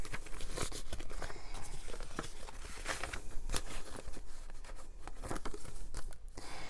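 Paper cash bills and envelopes are handled close up, with continuous crinkling, rustling and occasional sharp flicks and taps.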